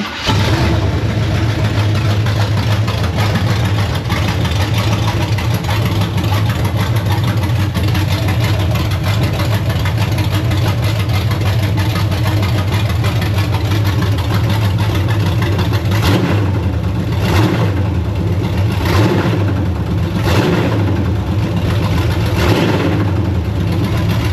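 A 1974 Chevy Blazer's big V8 engine turns over, catches and settles into a loud, lumpy idle, then revs up in several sharp bursts toward the end.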